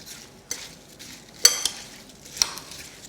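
Pavlova filling of brown sugar, cinnamon and corn flour being tossed together in a bowl, giving soft rustling stirs with a few light, sharp clinks of a utensil against the dish, alone and fairly quiet.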